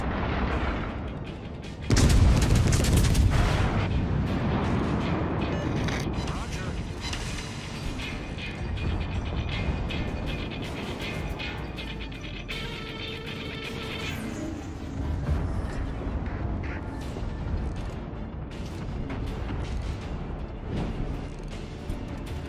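Naval artillery firing in World of Warships: Legends, a heavy boom near the start followed by a continuous, dense rumble of guns and battle noise that stays loud throughout.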